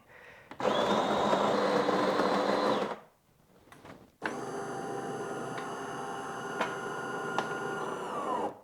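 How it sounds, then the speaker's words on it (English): A Delonghi Magnifica Start coffee machine making a double espresso: a loud two-second grinding whir, a short pause, then a steady buzzing pump hum that runs for several seconds. "I'm going to go for a double shot espresso"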